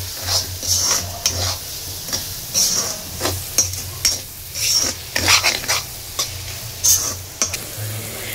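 Vegetables tossed with Maggi or chow mein masala in a frying pan, a spatula scraping and stirring in repeated strokes over a continuous sizzle, with light metallic taps against the pan, no talking.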